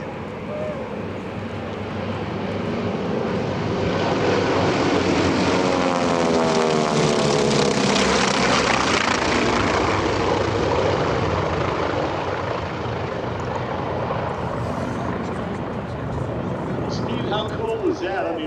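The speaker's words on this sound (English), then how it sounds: "listen to all that amazing horsepower, that sound of freedom. Here they are from the right, ladies and gentlemen, the T-28 Trojans." Several T-28 Trojan warbirds make a low pass at the EAA AirVenture airshow, a loud radial-engine roar that swells to a peak and then fades over many seconds, with an announcer talking over it.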